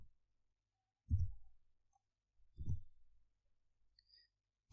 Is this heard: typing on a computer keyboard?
yes